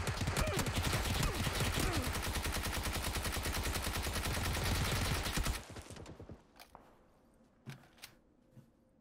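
Rapid automatic fire from a Bizon SMG in PUBG, a long dense burst of evenly spaced shots for several seconds that stops abruptly, followed by a few scattered quieter clicks and thuds.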